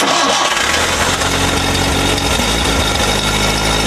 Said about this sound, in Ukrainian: Аби довести, що авто справне, пан Микола заводить двигуна.